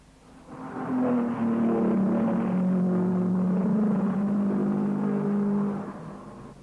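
1950s Grand Prix racing cars roar at the Swiss Grand Prix on the Bremgarten circuit, a loud, sustained engine drone with shifting pitch that swells in after a moment and holds steady before easing off, with no talking.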